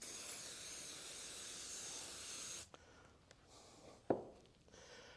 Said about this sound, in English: spraying it with a little bit of mold release.